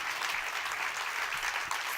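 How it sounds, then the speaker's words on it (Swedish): Audience applause at a public-sector management conference in Sweden, dense steady clapping from a crowd that fills the whole stretch at an even level. "stor applåd"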